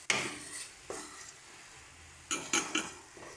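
A spoon scrapes and clinks against a pan while stirring spice paste into Katla fish rezala, with a few separate metallic knocks and stirring strokes spaced apart, fairly quiet and with no talking.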